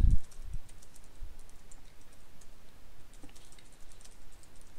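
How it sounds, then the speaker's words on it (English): Soft, rapid typing on a computer keyboard during an online Pokémon Showdown battle, faint quick clicks scattered throughout over a low background hum, with no speech. "What are you typing?"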